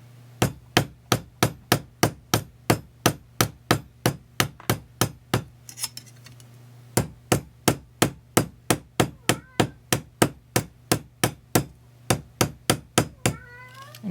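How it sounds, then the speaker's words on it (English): A steel hammer strikes a tube rivet again and again to flare its end, with about thirty sharp, ringing metallic blows in a steady rhythm. There is one short pause in the middle, and the blows are close and loud. "And I'm kind of hammering and going out"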